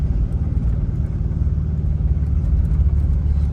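Volkswagen driving over rough beach ground, a loud continuous low engine rumble with slight bumpy fluctuations throughout.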